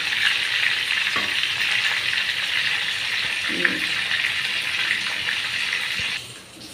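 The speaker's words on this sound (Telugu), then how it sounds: "కాకరకాయలు వేగినాక బాగా తీసి మనం అప్పుడు దీంట్లో కారం పెట్టి మళ్ళీ కొద్దిగా నూనెలో వేసి కారం చల్లుకోవాలి" Sliced bitter gourd sizzles steadily in hot oil with chili powder, a continuous close frying hiss with a few soft stirring knocks, fading slightly at the end.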